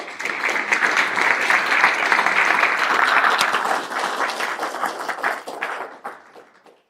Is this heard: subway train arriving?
no